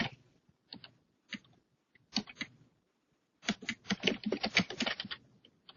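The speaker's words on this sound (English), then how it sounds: "Now I'm going to type the letter in" Fast typing on a computer keyboard, with short scattered bursts of key clicks giving way to a denser continuous run of rapid keystrokes, close and alone with no talk.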